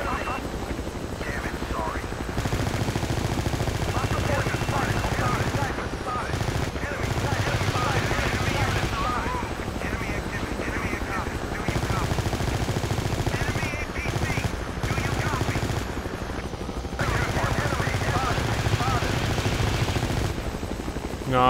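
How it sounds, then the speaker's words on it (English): Gunfire in a video game helicopter battle, bursts of shooting layered over a steady droning rotor hum, with a voice speaking over the noise throughout. "Who's firing and where is it?"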